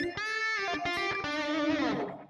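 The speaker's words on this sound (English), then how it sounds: "Crunch tones, which are channel 2 of the JP2C." Crunchy overdriven electric guitar through channel 2 of a Mesa/Boogie JP2C amp with chorus, delay and compression, playing a short run of ringing chords and picked notes that sustain and fade, loud and alone.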